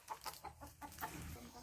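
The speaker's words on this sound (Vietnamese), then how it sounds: "Chó nó đứng gần cái con gà mà con gà la vậy á." A rural farmyard chicken squawks and clucks in a quick series of sharp, agitated cries, fairly close and loud, with a dog standing nearby.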